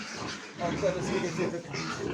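Young pigs kept for breeding on a small household farm grunt and oink continuously at close range, their squeals mixing with someone talking over them.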